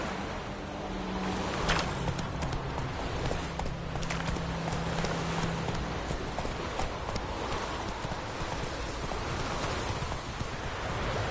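Hooves of Roach, a horse in The Witcher 3, clip-clop in a steady rhythmic walk over a continuous rain-like outdoor ambience, with faint rustling and no talking.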